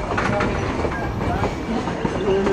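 The Durango to Silverton train rolls along the rails with a steady, loud rumble, rhythmic clickety-clack from the wheels and faint squeals from the metal, heard up close from on board.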